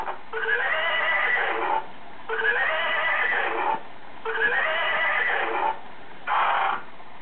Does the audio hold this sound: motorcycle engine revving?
no